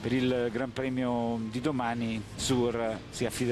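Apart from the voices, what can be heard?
None of the usual background noises is heard.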